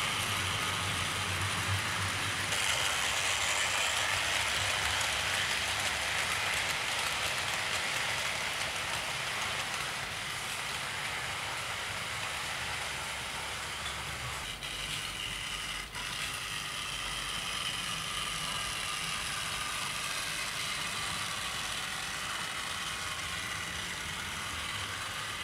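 A 440 model train locomotive runs on a layout, giving a steady mechanical whir with a gritty, rattling rail texture that continues unbroken at an even level.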